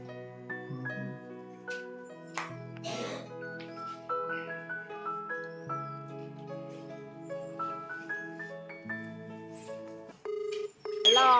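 A phone call is dialed, with a series of short keypad tones and electronic beeps in uneven rhythm. A louder tone sounds near the end.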